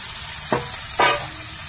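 Soaked rice goes into a sizzling pan for pulao, with two short scraping stirs over steady frying hiss.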